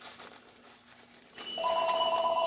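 A telephone bell starts ringing partway through in a quiet workshop, a sustained bright electronic trill that holds steady and close once it begins.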